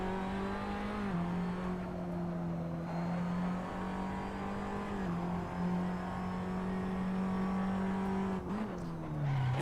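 A racing car engine in Assetto Corsa drones at a steady high pitch through the whole stretch, dipping briefly at gear changes and then climbing again, loud and continuous with no talking.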